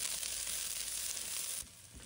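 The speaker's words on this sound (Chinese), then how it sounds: "开中火加热后，倒入切好的红葱头、大蒜、姜片爆香" Shallots, garlic and ginger sizzle loudly in hot leftover chicken-frying oil over medium heat, a dense steady crackle that drops abruptly quieter near the end.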